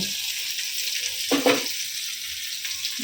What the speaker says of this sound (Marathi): आईने इकडं मस्त मच्छी टाकले दाखवली तुम्हाला इथं मच्छी फ्राय